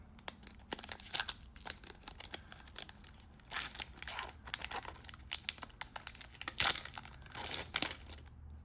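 Hobbit collector booster pack wrapper being snipped and torn open at the top, close and fairly quiet, with irregular bursts of crinkling foil and short tearing rips scattered between brief pauses.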